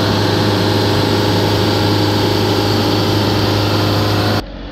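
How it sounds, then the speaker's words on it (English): A Mercedes diesel engine with a differential pressure sensor fault is held steady at 3000 RPM during a DPF clean, giving a loud, constant, close-up drone that cuts off abruptly near the end. "We're going to hold the revs at 3000 RPM."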